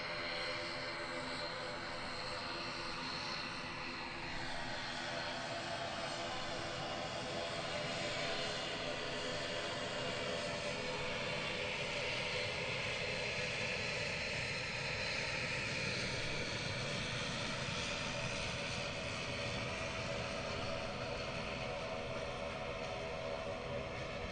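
ATR turboprop aircraft engines at Gatwick Airport, a steady droning roar with a rising and falling whine across the whole stretch, heard at a moderate distance.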